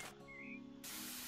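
Spraying soil in House Flipper, a soft hissing spray lasting under a second, followed by a steadier, louder hiss at the end.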